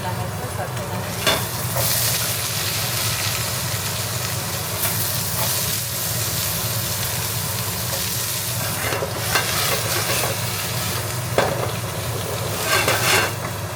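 Vegetables with green chillies and carrots frying in a pan, a steady loud sizzle and hiss close up, broken by scraping stirs at irregular intervals, with no talking.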